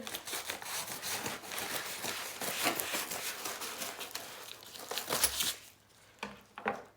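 A bag of LEGO bricks from a Bricklink order is cut open, with close, crisp crinkling and tearing of plastic packaging in a busy run of rustles, then a brief pause and a few final crackles.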